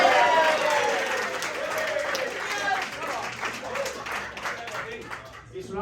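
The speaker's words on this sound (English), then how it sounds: "how about another round of applause for Ian" Wedding guests clap in a brief round of applause at a reception, fading over several seconds while voices carry faintly through the crowd.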